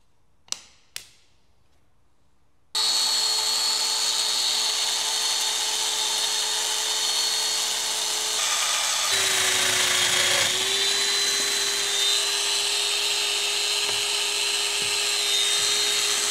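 A power saw cuts a strip of hardwood in a woodworking shop: a motor spins up after two sharp knocks, then a loud, steady high whine carries on, dipping briefly as the blade bites into the wood.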